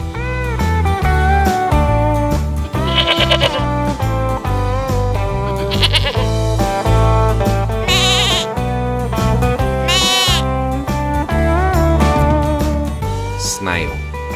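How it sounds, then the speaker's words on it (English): A goat bleats several times, loud and close, in wavering nasal calls over a busy background. "goat"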